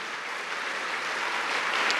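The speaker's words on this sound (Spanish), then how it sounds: "Dele palmas al Señor." A church congregation claps hands in a dense, steady wash of applause that holds at an even level for about two seconds, with no talking over it.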